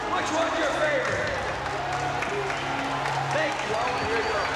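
Audience applause and crowd noise for beauty contest finalists, a steady, dense wash of clapping that runs throughout with voices mixed in underneath.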